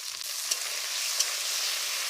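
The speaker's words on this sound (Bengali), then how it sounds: "রসুন আমি দিয়ে দিচ্ছি তেলের উপর, আদা দিয়ে দিচ্ছি, টমেটো দিয়ে দিচ্ছি, দিয়ে আমি ভেজে নেব।" Garlic, ginger and tomato fry in oil over a village clay stove, a steady close hiss and sizzle with a couple of faint pops.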